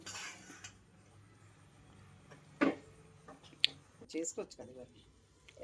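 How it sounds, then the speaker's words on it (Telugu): Condensed milk being stirred into seviyan kheer in a pot with a spoon, giving quiet, scattered clinks and scrapes against the metal at irregular moments. "ఇప్పుడు ఈ కండెన్స్ మిల్క్ అంతా కీర్లోనే బాగా కలుపుకోవాలి"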